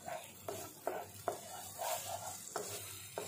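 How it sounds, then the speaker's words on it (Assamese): Onions with ginger-garlic paste frying in a pan for mutton curry, a steady sizzle broken by repeated sharp scrapes and knocks of a spoon stirring, close up and with no voices. "এইখিনি মই আকৌ 2 মিনিট মান ভাজি থাকিম।"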